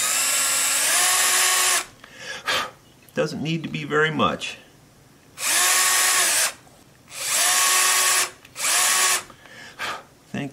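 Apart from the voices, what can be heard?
tiny wire drill drilling into mandolin part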